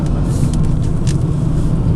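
A low, steady booming drone from a Citroen Berlingo LPG van while driving, with constant road rumble inside the cabin and no speech.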